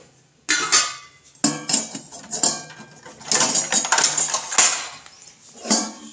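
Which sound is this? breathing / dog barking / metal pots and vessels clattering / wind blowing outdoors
metal pots and vessels clattering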